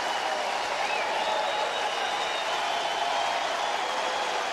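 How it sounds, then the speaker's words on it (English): Baseball crowd roars and cheers after a solo home run sails out to left field, a broad, steady wash of cheering and applause that holds loud for the whole stretch without a break. "two-thirds of the folks down the left field side came to their feet cheering as this ball sailed out"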